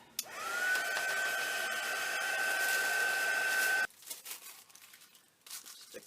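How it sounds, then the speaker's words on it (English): Hair dryer blowing on a painted art journal page, a steady loud whir with a rising whine that runs for about four seconds, then cuts off abruptly, leaving faint rustling and handling noises. "I'm going to dry this though."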